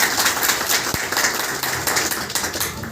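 Applause from an audience at a local ward meeting, a dense steady patter of many hands clapping at close range, with no talk over it.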